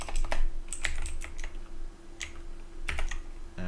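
Keystrokes on a computer keyboard tap out in short irregular bursts at close range, with a steady low electrical hum underneath and no voices.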